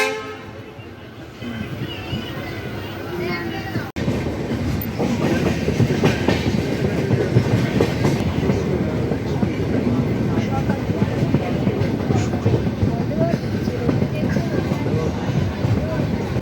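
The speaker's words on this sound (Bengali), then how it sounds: "সকাল 7:11-য় আমাদের ট্রেন পৌঁছে গেল তার যাত্রাপথের প্রথম স্টেশন সাঁতরাগাছি জংশনে।" Tamralipta Express 12857, running from Howrah to Digha, rolls along the rails with a loud, steady rumble, rhythmic clickety-clack and a horn toot, while voices are heard in the carriage.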